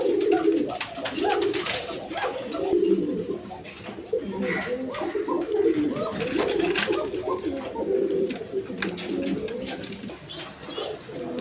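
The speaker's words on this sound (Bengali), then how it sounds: "দর্শকবিন্দু এখানে এক পেয়ার রাজগোল্লা কবুতর আছে" A pair of Rajgolla pigeons coo in repeated low, throaty calls close by, with a voice briefly speaking over them at times.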